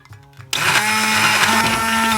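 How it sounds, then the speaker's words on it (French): A kitchen blender starts abruptly and whirs steadily at high speed, mixing light mayonnaise with hard-boiled eggs; the motor whine is loud and close after a brief quiet moment. "on va donner un coup de mixeur dans tout ça, on va surtout bien mixer"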